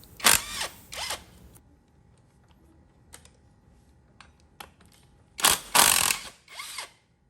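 An impact wrench loosens bolts on a motorcycle disc brake of an old Nmax scooter, two short loud whirring bursts at the start, faint clicks in between, then another pair of rattling bursts, close up without speech.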